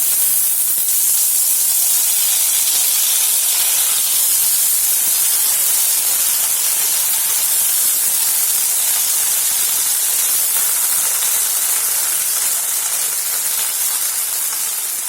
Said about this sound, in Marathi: हिरव्या तुरीचे दाणे आपण याला भाजून घेऊया